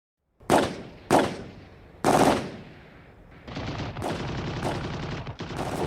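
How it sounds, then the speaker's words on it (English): A gunfire sound effect recalls a night shooting on a town street during WWII. Three loud, close bursts crack out, then a sustained rapid crackle of many rounds rolls on without a break. "Then, the shooting started."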